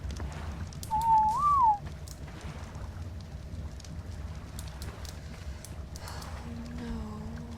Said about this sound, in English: Oh, I'm whistling you.